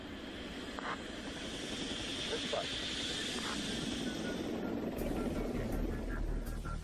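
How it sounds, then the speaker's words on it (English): Unmanned A-160 aircraft carrying a Forester antenna climbs while a chase helicopter shadows it, a steady broadband engine and rotor roar holding throughout at moderate loudness, getting somewhat heavier in the final seconds. "Shadowed by a chase helicopter, the A-160, carrying the Forester antenna, climbs to its programmed altitude"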